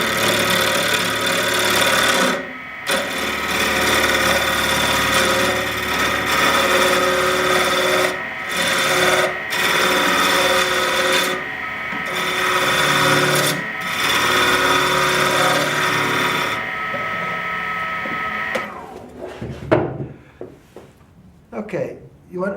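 A WEN 3420 variable speed benchtop wood lathe cuts a rectangular ebony and lacewood veneer pen blank, giving a loud, sustained scraping whir broken by brief pauses, with the motor spinning down at the end under talking.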